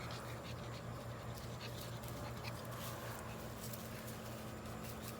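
Dog panting outdoors in a garden, soft rapid breaths with faint whimpers and shuffling, quiet and steady throughout with no talking.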